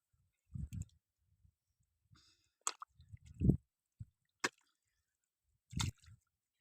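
Water trickling through mud, heard as scattered wet squishes and drips in irregular bursts, close and fairly quiet with gaps of near silence between them.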